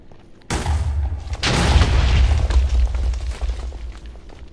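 A loud explosion in a blocky sandbox video game bursts in suddenly, followed by a sustained deep rumbling roar that slowly fades, with no talk.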